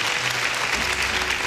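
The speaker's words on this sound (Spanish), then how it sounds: "Fuerte el aplauso para las cachorritas de Charlie Badulaque." A television studio audience gives loud, continuous applause for a group of performers, dense and even throughout the short stretch.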